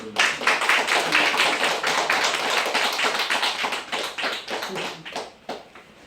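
Congregation applauding during a gift presentation to a church elder at a Sunday worship service, a dense sustained clatter of many hands that stays loud for several seconds before thinning toward the end.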